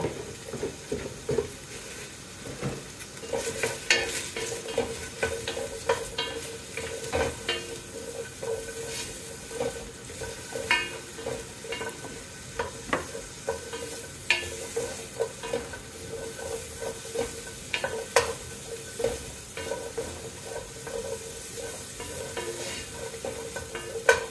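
Garlic and onion sauté together in a pan for beef stew. A steady hissing sizzle runs under frequent scraping stirs and clacks of a utensil, close and continuous, with no talking.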